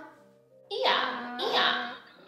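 A human voice imitates a donkey's bray, giving two loud, drawn-out hee-haw cries one after another in a storytelling scene set on a hillside.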